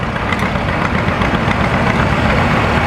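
A vintage John Deere B two-cylinder tractor engine runs steadily at a tractor show, a continuous low rumbling drone at constant loudness with no talk over it.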